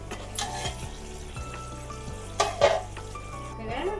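Tamarind leaf and dried fish curry bubbles on high heat in a pot, giving a continuous close sizzle and simmer with a few brief clinks of a utensil and no talking.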